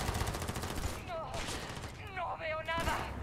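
Gunfire in the RPG Starfield crackles in rapid bursts and machine-gun rattles throughout, loud and close, with a voice talking over it in places.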